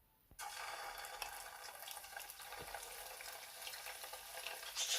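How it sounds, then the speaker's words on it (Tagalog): Meatballs drop into reheated oil for deep frying, and a loud, steady sizzling hiss starts abruptly, then bubbles on continuously at close range with a few faint clinks. "it's time for us to deep fry"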